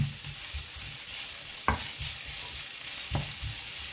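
Bell pepper and spring onion browning in a pan, an even sizzle running throughout with two sharp knocks of a utensil against the pan, and no voices.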